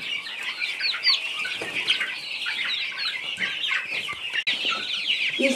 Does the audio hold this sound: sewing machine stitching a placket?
no